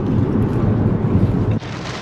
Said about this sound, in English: we're stuck in traffic, and it started raining